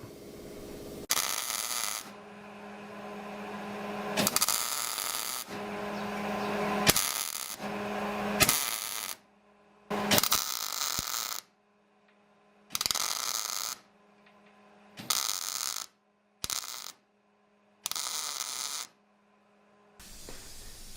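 MIG welder tacking steel pieces across a gap, heard as a series of separate bursts of crackling, hissing arc noise, each lasting one to two seconds with short silences between them, close and fairly loud with a steady hum underneath.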